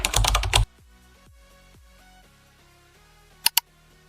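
A burst of rapid computer keyboard typing for under a second as a password is entered, followed by quiet with a faint tonal background and two sharp key taps near the end.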